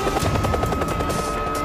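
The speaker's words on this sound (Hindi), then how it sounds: "हेलीकॉप्टर सही समय पर पहुंचता है" A helicopter arrives to signal the start of a test, its rotor thumping in a fast, regular beat under a loud engine roar that fills the whole short stretch, close and steady.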